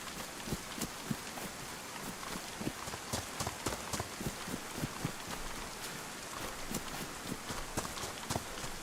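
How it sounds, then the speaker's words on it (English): Footsteps thud in a steady, uneven rhythm beneath a constant hiss of heavy rain in the survival game DayZ, with no voices over them. "Yeah, there's like random footstep sounds in the rain."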